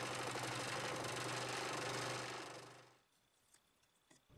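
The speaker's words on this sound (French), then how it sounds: "Découpe à la scie à chantourner sans forcer." A scroll saw cuts through plywood with a steady, rapid buzzing rattle that runs loud for over two seconds, then fades out and stops, leaving faint clicks.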